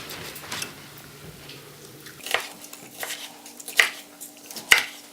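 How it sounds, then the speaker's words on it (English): Knife chopping bell pepper sticks crosswise into small cubes on a cutting board, a few sharp, separate cuts with quiet pauses between them. "Now I'm just going to chop the opposite way to make little cubes"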